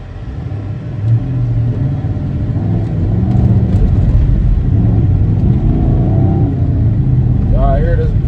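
A straight-piped Chrysler 300S idling and rumbling close by, a deep steady exhaust drone with a slight swell partway through, while someone talks over it.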